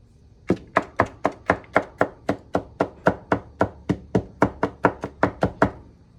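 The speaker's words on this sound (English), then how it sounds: "So there's the garlic all minced up, the onions all minced up" A knife mincing garlic on a cutting board: about nineteen sharp, evenly spaced chops in a steady rhythm, close and clear, with no voices.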